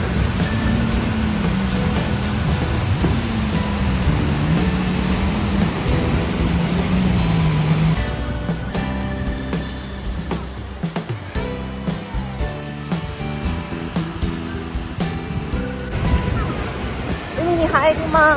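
Sea waves washing onto the coast of New Taipei, Taiwan, a steady broad roar of surf that continues for the whole stretch, with some other sounds mixed in over the water.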